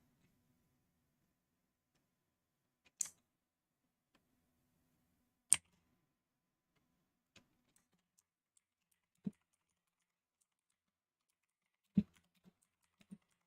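Scattered single keystrokes tap on a computer keyboard, quiet and close, with long pauses between a handful of sharp clicks in an otherwise silent room.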